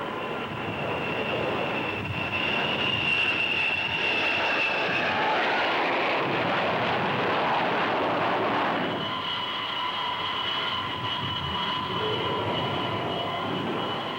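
A carrier-based military jet flies over with a loud, sustained roaring whine, a high engine tone rising and then shifting partway through as it passes, continuous with no talk.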